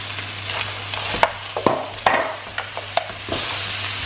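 Lamb chops with crushed garlic frying in a little oil, with a steady close sizzle under scattered scraping and stirring knocks of a utensil in the pan, no voices.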